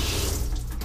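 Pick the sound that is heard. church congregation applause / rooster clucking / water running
water running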